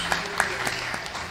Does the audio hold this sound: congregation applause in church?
yes